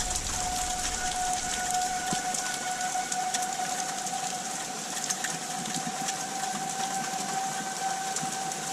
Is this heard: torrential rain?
yes